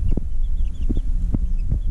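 A chicken clucks in a few short, low bursts, close by and spaced unevenly, among hens and a rooster kept as breeding pairs.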